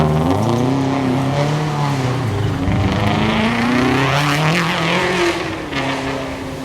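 A rally car on a 2012 STPR Rally stage roars past close by, its engine note climbing and surging as the turbo boost comes on, then fading slightly as it moves away.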